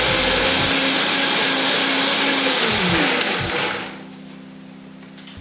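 A countertop blender whirs loudly and steadily while pureeing raw vegan mashed potatoes, then winds down over a couple of seconds into a quieter room hum.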